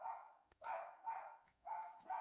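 A female dog barks softly and repeatedly, about four muffled yips in a steady rhythm, faint and somewhat distant, with no talk.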